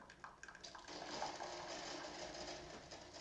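A Tassimo pod coffee maker finishing its brew: a steady watery gurgling and hiss of liquid being pushed through, low and continuous, with faint clicks near the start.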